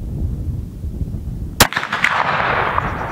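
A single sharp rifle shot cracks out loud and close against windy outdoor background noise at a range where soil moisture keeps bullet impacts from raising dust, followed by a brief rumbling echo.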